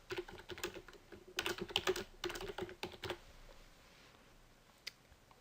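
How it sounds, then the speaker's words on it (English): Quiet keystrokes clatter on a computer keyboard in short bursts of rapid typing, with brief pauses between them. The bursts trail off into near silence. "I can just start typing."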